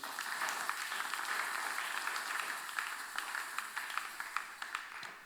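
A church congregation applauding to acclaim Jesus, a steady wash of many hands clapping at moderate distance that holds for several seconds, with a few sharper individual claps standing out toward the end.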